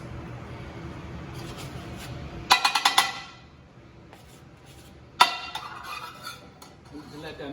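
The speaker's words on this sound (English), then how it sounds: "As you can see, I'm twirling all the butter around." Unsalted butter melting in a hot pan and being swirled around, with soft scraping and stirring under a low background, broken by two bright bursts of metallic clinks and clatter from the pan, the first a quick rapid cluster.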